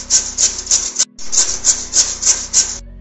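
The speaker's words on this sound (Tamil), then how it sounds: "காய்கறி சீவுறதால நம்ம உருளைக்கிழங்கு 4 உருளைக்கிழங்கையும் நல்லா சீச்சு எடுத்துக்கலாம்." Potatoes being sliced on a handheld vegetable slicer blade for Tamil-style potato pakoda, a close rhythmic rasping scrape repeated about eight times with one short pause, no voices.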